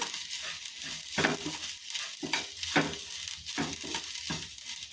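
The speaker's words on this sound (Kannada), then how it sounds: "ಇದನ್ನು ಸ್ವಲ್ಪ ಬಾಡಿಸ್ಕೋಬೇಕು ತೆಂಗಿನ ತುರಿನ." Grated coconut is sautéed in a pan for ginna milk payasa, giving soft sizzling and frying hiss broken by repeated scraping stirs of a spatula, close and fairly quiet.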